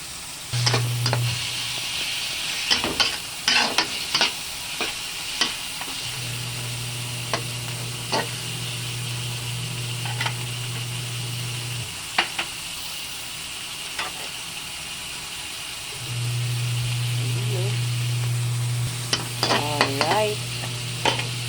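Chicken frying in a pan for pakbet with bagoong alamang, a steady sizzle broken by clattering spatula stirs and scrapes, with a low hum coming and going in the background.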